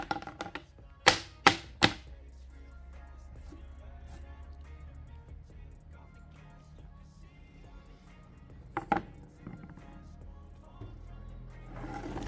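Sharp taps knocking packed lint loose from a clothes dryer's lint channel, a quick burst of three loud knocks near the start and two more later, close by with quiet room noise between.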